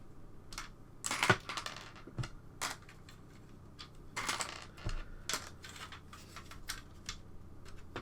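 Plastic keycaps being pressed onto a ZX Spectrum keyboard, giving a series of sharp clicks and snaps at irregular intervals, close and fairly loud against a quiet room.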